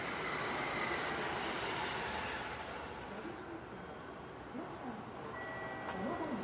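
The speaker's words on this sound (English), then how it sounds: "Here is the Tokaido Shinkansen, the N700, also known as Japan's fastest bullet train." A Tokaido Shinkansen N700 bullet train at a busy Japanese station, a broad rushing roar that is loud at first, then eases into a lower rumble with faint tonal sounds and voices in the background.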